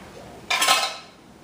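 A metal lid goes onto a pot of Punjabi karhai chicken, one short clattering clink followed by a brief ringing rattle that dies away within half a second.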